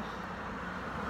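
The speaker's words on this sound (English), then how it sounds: "Sorry about the background traffic." Steady road traffic from cars passing on a nearby road on a Saturday afternoon, heard through wide-open doors as a continuous low rumble and hiss with no talking.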